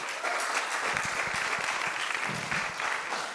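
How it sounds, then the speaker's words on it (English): An audience at a banned-books panel event applauds as the panelists leave the stage: a steady, dense round of clapping from a full room that holds for a few seconds, with faint voices mixed in. "as our panelists are leaving, please give them a round of applause"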